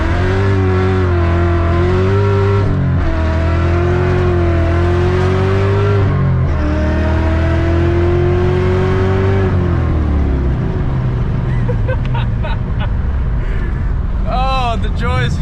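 A supercharged 650 hp Infiniti G35 with an LS1/LSA V8 and six-speed accelerates hard, its loud engine note climbing through the gears close by, then easing off near the end as faint chatter starts.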